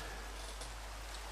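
Steady rain falls in a video game village scene, a faint, even hiss of drops with no other sound.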